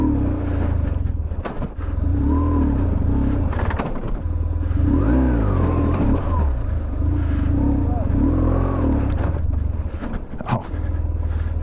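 BMW R1150GS Adventure motorcycle engine revving on low-grip tyres, a loud continuous drone rising and falling in pitch several times, with someone talking over it.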